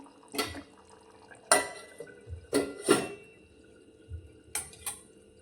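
Several sharp metallic clanks and knocks of a lid and utensils against a pan of potato curry on a gas stove, spaced irregularly with quiet gaps between.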